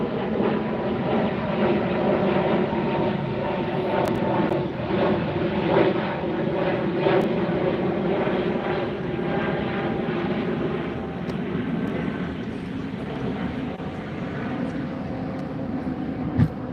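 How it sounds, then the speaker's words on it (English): United Airlines Airbus A321neo jet departing LAX for Denver, a steady broad engine roar at moderate distance holding across the whole stretch, easing slightly toward the end. "United Airlines. Flight 1597 headed to Denver. Airbus 321. Neo, I believe."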